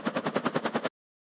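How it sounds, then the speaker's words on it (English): White noise oscillator modulated by an LFO, used as an idle layer for a game spaceship: about nine rapid, even pulses of hiss in under a second, then silence. "a white noise oscillator modulated by an LFO"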